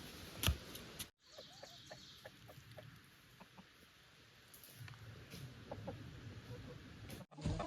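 On an off-grid Minnesota homestead, newly hatched chicks eat their feed and let out faint, scattered peeps and clucks against a quiet background, with a soft voice near the end.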